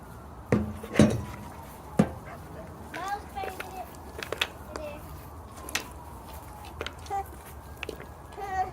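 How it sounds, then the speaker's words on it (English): Knife chopping through lemon seeds on a hard surface, giving sharp scattered cuts and clicks alongside clinking dishes and a dog barking close by. "See, that was me cutting and chop one of the seeds."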